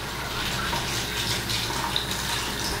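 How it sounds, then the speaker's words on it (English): Tap water running steadily into a sink while shampoo is rinsed off hands, a continuous close hiss of flowing water with no talk. "Wash off all that extra shampoo on your hands."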